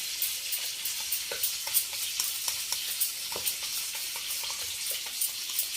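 Thick curd is whisked until smooth for a mushroom biryani, heard as a rapid series of close, light clicking and scraping strokes against a bowl over a soft steady hiss, with no voices.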